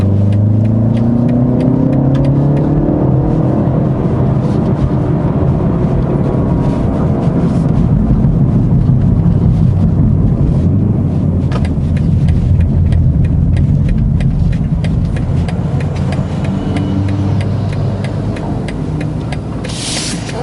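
A 2023 BMW 330i M Sport (G20 LCI) engine hums steadily while driving, a loud continuous drone with rising and falling engine tones and road roar, no talking.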